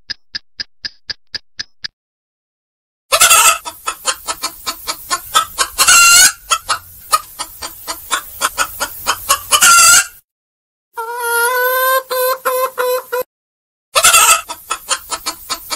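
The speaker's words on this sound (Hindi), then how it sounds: "इतनी रात गए मेरा मुर्गा इतना चिल्ला क्यों रहा है?" A farmer's rooster at night sends out rapid runs of loud, close clucks and squawks, broken by short silences, with a stretched, wavering crowing call in between.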